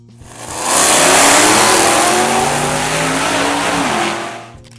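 A 1978 Plymouth Roadrunner with a 360 cubic inch V8 and four-barrel carburetor revs up loud and close, holding a sustained roar before easing off, with no talking.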